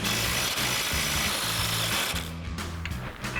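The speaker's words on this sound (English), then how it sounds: "So we'll get in and get this lower bolt off." A power tool with a 21mm socket runs the lower mounting bolt off the front suspension of a 2020-2026 Chevrolet Silverado 2500 in bursts of loud, close, rattling whirring, with brief gaps, then trails into quieter clanks.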